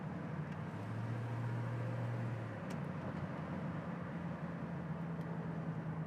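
A 1968 Ford Mustang driving along, a steady low engine drone and road rumble heard from inside the car, with a faint tonal hum that shifts partway through and no talking.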